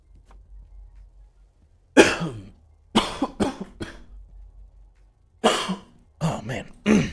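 Several harsh coughs in bursts separated by pauses: one around two seconds, a double cough, then a longer cluster near the end, close and loud.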